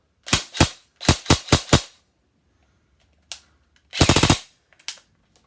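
Shots from a repaired Echo 1 Robinson Armament XCR airsoft gun: a pair of snappy pops, a quick burst of four, then a lone shot and a rapid five-shot string, close and loud with short pauses between.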